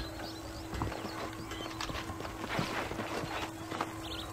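Hooves clip-clop in a steady walking rhythm in the Red Dead Redemption video game, close and clear against a low ambient bed. A brief whinny rises above the hoofbeats.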